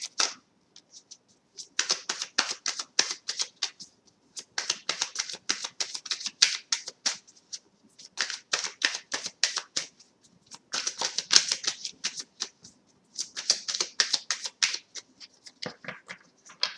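Tarot cards are shuffled by hand in a long run of crisp, riffling bursts that pause briefly and start again, up close and with no voices.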